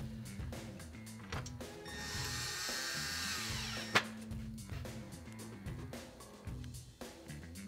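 A power driver with a Phillips bit tightens roof rack crossbar bolts on a Land Cruiser 100 Series, giving a brief whirring burst mid-clip, followed by a sharp click, against faint background noise.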